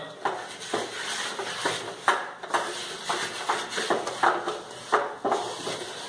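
A utensil stirs thick dough with sesame seeds in a pan while making the East Indian sweet khapshyo. Close, rhythmic scraping strokes land about every half second, over a quiet background.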